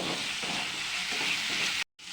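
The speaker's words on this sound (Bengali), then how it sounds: "মশলাটা খুব ভালো করে আমরা কষে নেব যতক্ষণ না তেল ছাড়ে" Spice masala sizzling in hot oil in a pan while being stirred, a steady dense fry with soft scraping, briefly cut off just before the end.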